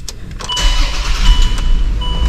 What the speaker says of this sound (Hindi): उसके बाद गाड़ी को स्टार्ट करते हैं